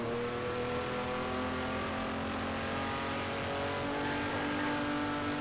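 A Ferrari race car in a racing video game accelerating hard, a steady, sustained engine drone with rising tonal whine that stays constant and moderately loud throughout, with no voices.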